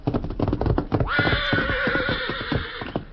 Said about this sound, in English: the Lone Ranger and Tonto were preparing supper when Dan's horse Victor galloped in and stopped.